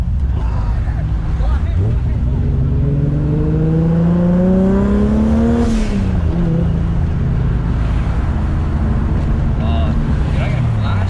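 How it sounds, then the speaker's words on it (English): A 900HP Toyota Supra's engine revs up hard with a rising whine while driving at night in city traffic, loud and close, then eases off, with people talking inside the car. "Let's hit a backfire!"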